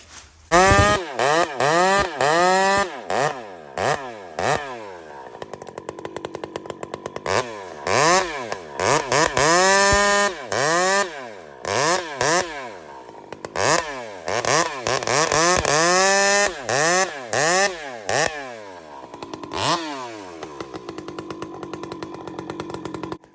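A small chainsaw cuts firewood with loud, close engine bursts that rise and fall in pitch as it revs into the cut and drops back to idle, repeated many times with brief pauses.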